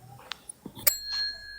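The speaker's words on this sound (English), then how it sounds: "What's the bell for?" A small bell rings once with a sharp ding that lingers briefly during a live stream, among a few scattered clicks and soft knocks, with no one talking.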